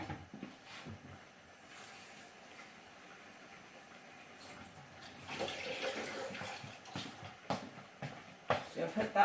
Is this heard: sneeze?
no